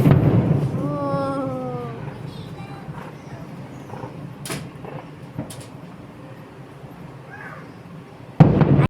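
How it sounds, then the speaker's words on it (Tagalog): Fireworks explode outdoors in Zhuhai, China, with a few sharp, fairly loud bangs spaced apart over a continuous murmur of voices and crowd noise, and a final burst near the end. "It's fireworks."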